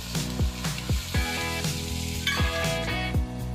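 Nethili anchovy fish frying in oil in a pan, a crackling sizzle with sharp, repeated spattering pops at irregular intervals, close and moderately loud, with no talking.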